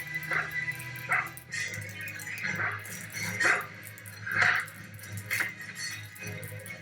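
A dog barks and yips in repeated short bursts, close by, over a steady background hum, in a cartoon scene where the dog is tugging at a fruit roll-up.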